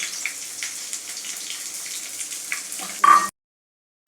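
Garlic and chopped onions fry in hot oil in a pan, a loud, steady hiss up close that rises in a sudden burst near the end before cutting off.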